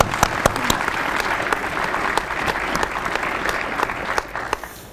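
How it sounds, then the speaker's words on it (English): An audience gives a round of applause honoring Operation Anaconda veterans: continuous, full-room clapping at steady loudness, with sharp individual claps standing out, tapering slightly at the end. "So please give them a round of applause."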